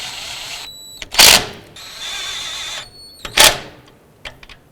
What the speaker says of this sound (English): I'm going to go ahead and tighten up these upper bolts